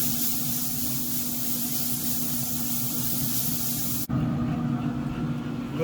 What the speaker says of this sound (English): So I got my spray bottle ready.